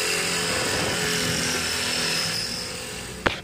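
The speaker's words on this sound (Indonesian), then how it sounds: "Gunakan mesin bor untuk melubangi." An electric drill bores through steel angle iron for a sliding gate rail, giving a steady, close, whining drone that runs continuously before ending in a sharp final snap.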